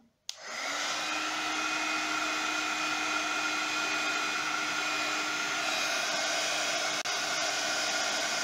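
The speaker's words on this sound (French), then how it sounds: "Et on va sécher tout ça avec le pistolet chauffant." A heat gun blows steadily as it dries modeling paste on a mixed-media canvas. The loud, even whooshing roar starts abruptly after a brief silence and holds constant, close by, with no talking.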